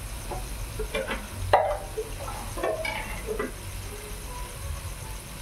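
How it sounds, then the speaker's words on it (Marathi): Water poured into a hot mustard tempering in a pan for bottle gourd curry, giving a short burst of sizzling and bubbling with some stirring clatter, close and moderately loud. "आता आपण पाणी घालूया त्याच्यामध्ये."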